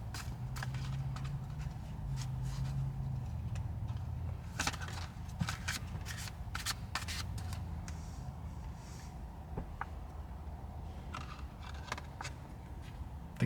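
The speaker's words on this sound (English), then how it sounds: "I'm going to continue shuffling, get a good shuffle." Soft, irregular papery shuffling and riffling of cards, with scattered short taps and flicks over a low steady hum, close and fairly quiet.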